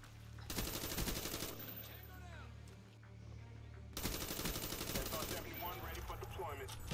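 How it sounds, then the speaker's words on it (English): Rapid automatic gunfire in a Call of Duty game comes in two long bursts of fast, crackling shots, with scattered distant pops and brief quieter moments between them. "this place is getting shot up right now"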